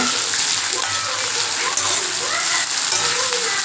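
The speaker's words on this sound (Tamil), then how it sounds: "உப்பு போட்டு நல்லா வதக்குங்க" Pirandai chutney mixture with salt sautéing in a pan, a steady, close hiss and crackle of frying that runs continuously without pause.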